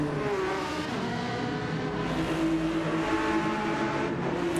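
Ferrari race cars, a 458 and a 296, lapping the Nürburgring Nordschleife in a racing video game, engines droning steadily and loudly with continuous tonal whine throughout, no voices.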